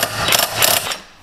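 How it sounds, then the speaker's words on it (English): A wrench works loose the bottom bolt of a transfer case mount on a Mitsubishi L200 4x4, giving two short bursts of close metallic ratcheting and clicking before it stops. "we're gonna take the bottom bolt off"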